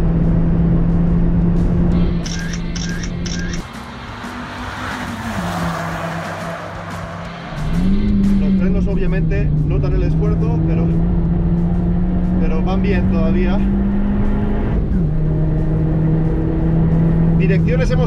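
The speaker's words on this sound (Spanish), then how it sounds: "El motor es fantástico y suena de maravilla." A 2018 Toyota Yaris GRMN hatchback's engine drones loudly on a track, pitch rising and dipping through gear changes and acceleration, with someone talking over it.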